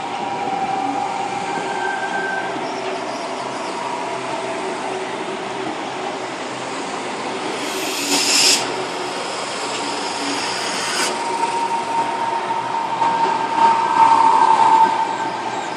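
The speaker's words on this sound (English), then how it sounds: "T18 now just departed platform number 3." A Sydney T18 train pulls out of platform 3 at Tempe station: a loud, steady rail rumble close by, with brief wheel squeals midway and near the end.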